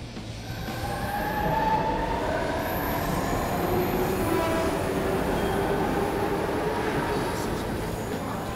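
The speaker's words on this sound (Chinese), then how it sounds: "车来了" A subway train pulls into a metro station, its steady rumble rising and holding with drawn-out wheel squeal and faint clatter of cars, close and continuous without speech.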